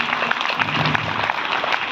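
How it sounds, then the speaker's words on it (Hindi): Audience applause at a Babasaheb Ambedkar Jayanti gathering, a loud continuous burst of clapping from a large crowd for two seconds. "जोरदार ताली बजा दे, बिल्कुल कंजूसी ना करें एक बार"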